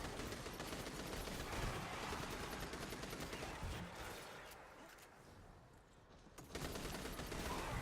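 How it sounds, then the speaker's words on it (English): Rapid gunfire in the game Destiny 2 as a player shoots phalanx enemies from a distance, a dense continuous fusillade of shots that briefly thins out before resuming loudly. "There's just a lot of them, so take your time shooting them from afar."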